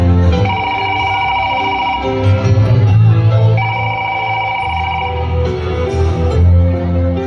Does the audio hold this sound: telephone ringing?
yes